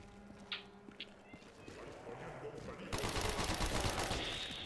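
Pistol gunfire in the Call of the Dead video game, with a few faint shots early, then a dense, continuous volley of game combat noise growing louder and busier toward the end, with a voice talking underneath.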